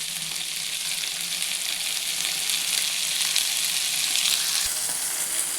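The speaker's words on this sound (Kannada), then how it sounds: "ಈರುಳ್ಳಿ ಮತ್ತು ಟೊಮೆಟೊ ಹಾಗೆ ಹಸಿಮೆಣಸು ಎಲ್ಲ ಫ್ರೈ ಆಗಿದೆ" Onion, tomato and green chilli fry in hot oil for an egg masala, giving a steady, close, bright sizzle that holds evenly throughout with no voices.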